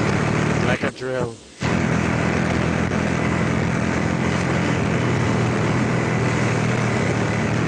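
A loud, steady mechanical whirring drone of a drill in the video game Payday 2 runs throughout, close and continuous, briefly interrupted near the start by a short choppy burst.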